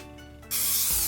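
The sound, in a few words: cooking spray sprayed onto nonstick cake pan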